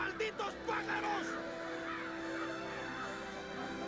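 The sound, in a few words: birds cawing in War of the Worlds film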